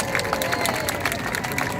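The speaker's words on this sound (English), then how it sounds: "let's have a huge round of applause for a happy birthday to Red 4!" Applause and cheering from a large outdoor airshow crowd watching the Red Arrows display team at Blackpool, a dense steady wash of clapping that runs through the whole moment.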